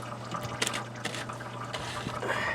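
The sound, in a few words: fluid draining from CAT C7 engine into buckets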